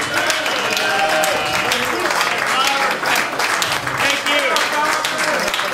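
An auditorium audience at a live music show applauds in a steady, dense wash of clapping that holds at an even level throughout, with voices mixed into the crowd noise.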